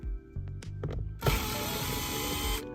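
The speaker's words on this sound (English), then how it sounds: "that's exactly what I'm gonna start doing is removing these screws" A tool clicks and ratchets a few times while screws come out of a Honda Civic during an AC expansion valve job, then a steady mechanical whir runs for over a second, close and moderately quiet.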